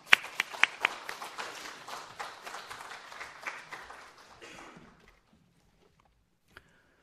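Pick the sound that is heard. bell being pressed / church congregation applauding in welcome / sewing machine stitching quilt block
church congregation applauding in welcome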